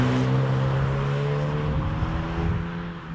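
A Hyundai i20N hatchback's engine drones loud and steady at high revs from inside the cabin, a constant tonal hum with road roar that eases slightly toward the end.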